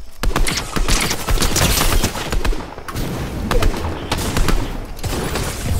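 Rapid bursts of gunfire in a video game, dense overlapping shots crackling loudly and near, in quick irregular clusters with short lulls between volleys.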